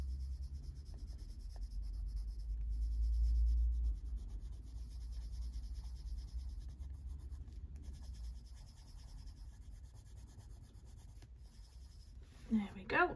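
Coloured pencil shading on paper, a soft continuous scratching under a nearby voice, with a few sharper strokes near the end.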